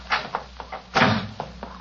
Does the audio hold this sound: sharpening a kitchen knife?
no